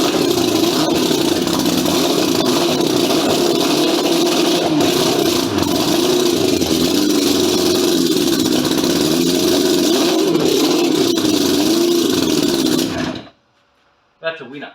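A racing lawn mower engine revs hard at high throttle, a loud, steady, rough drone held for about thirteen seconds, then it cuts off abruptly and a brief sound follows.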